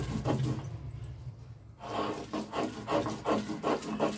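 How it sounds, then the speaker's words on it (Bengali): Fried kohlrabi paste is ground on a stone slab (shil), a series of rough, rhythmic scraping strokes close by, pausing briefly before resuming in regular back-and-forth rasps, with no voices. "আমি এটাকে এবার নামিয়ে নিয়ে শিলে বেটে নেব"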